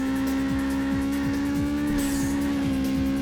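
Racing car engine drones steadily in Burnout 2: Point of Impact on PS2, a sustained harmonic whine with rhythmic pitch sweeps as gears shift or laps roll on, tires hissing faintly underneath, loud and continuous with no talk.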